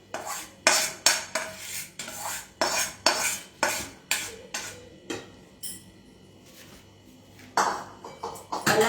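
A metal spoon mixes jaggery in a dish, making a run of sharp, ringing clinks and scrapes at a fairly regular beat, close and loud, with a quieter pause before the clinking resumes; no voices.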